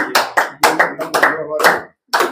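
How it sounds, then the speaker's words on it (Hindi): A small group claps for themselves in short loud bursts of uneven hand claps with brief pauses between. "तो अपने लिए ताली हो जाती है एक बार"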